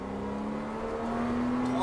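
A Porsche engine on a race track hums steadily and gradually rises in pitch as it accelerates, close and continuous.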